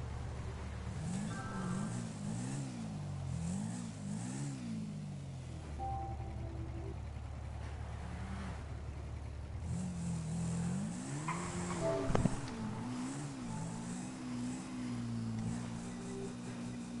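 Dirt bike engine in a GTA role-play game revving repeatedly, its pitch rising and falling in quick swells, then idling steadily before another long rev climbs and holds, close and loud throughout.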